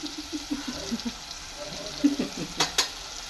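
Asafoetida dropped into hot oil while sabzi cooks, sizzling and crackling close by with spoon stirring and a couple of sharp metallic taps near the end.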